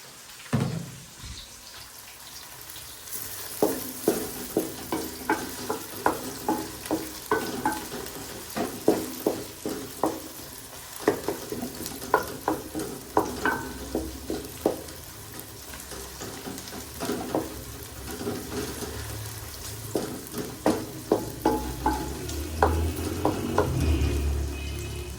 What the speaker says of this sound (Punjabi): ਨਾਲ ਤੜਕਾ ਲਾ ਦਿੰਦੇ ਪਏ ਆ